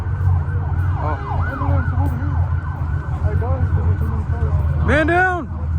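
An ambulance siren wails in rising and falling sweeps at a car meet, moderately distant and partly masked by steady engine and crowd rumble, then swells louder briefly near the end.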